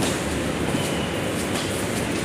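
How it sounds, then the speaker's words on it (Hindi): A train at a two-storey elevated railway station in Delhi gives a steady, loud rumble of wheels and carriages, a continuous broadband roar with faint clattering and no break throughout. "ये है दो मंजिल ऊंचा रेलवे स्टेशन"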